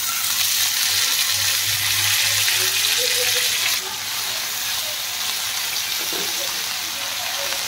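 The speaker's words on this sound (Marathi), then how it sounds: "कांदा आणि मिरची छान भाजतीये" Onion and green chili sizzle steadily in a hot pan as vegetables are added, a loud continuous frying hiss with a brief shift as the mix settles.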